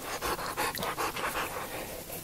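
A goofy, excitable dog pants rapidly and close up, a steady run of quick rhythmic huffs with no voices over it.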